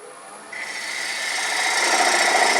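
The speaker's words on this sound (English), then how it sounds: "Now we can go ahead and come in here with a bowl gouge" A bowl gouge cuts a wooden flask turning on a lathe, a rising hissing scrape that starts faint and grows steadily louder and closer over a couple of seconds.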